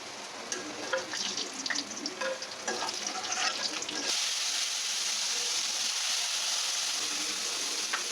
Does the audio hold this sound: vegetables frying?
yes